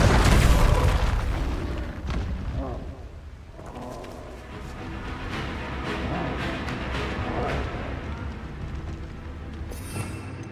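A Confringo fire spell explodes in Hogwarts Legacy with a loud, booming blast at the start, followed by a long, rumbling roar of debris and action that slowly fades.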